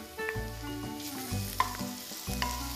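Garlic hits a pan of softened onions, a quiet sizzle overlaid by a few low knocks and scrapes of stirring, all short and fairly close.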